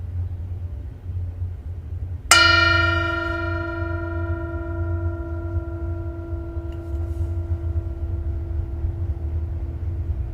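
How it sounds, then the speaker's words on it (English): A single meditation bell is struck once and rings out with a clear, sustained tone that decays slowly over several seconds, heard above a low, steady background rumble during a mindful Bible study session. "So I'm going to invite the bell to sound again"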